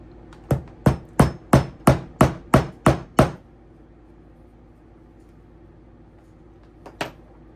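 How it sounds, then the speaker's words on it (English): Eight sharp, evenly spaced rubber hammer strikes setting a rivet in a leather tote in quick succession, then a pause and one final tap; close and crisp with no talking. "grab our rubber hammer, and then we're just going to set the rivet."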